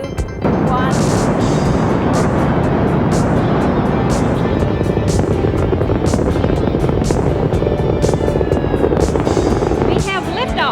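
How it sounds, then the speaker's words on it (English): A spaceship rocket launching at liftoff, a loud continuous roar and rumble with rapid regular beating pulses throughout, while a voice speaks over the noise. "We have liftoff."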